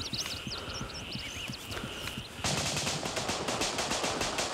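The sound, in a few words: gunfire from a video game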